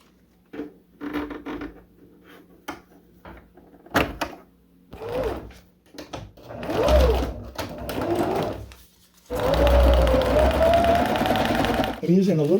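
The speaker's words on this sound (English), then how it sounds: "I'm matching the two corner cuts together and then sewing the line." A sewing machine stitches thin trailer skirting fabric for a compact teardrop trailer, with bursts of mechanical whirring and clicks between pauses, clearest in a sustained run near the end, with a voice talking over parts of it.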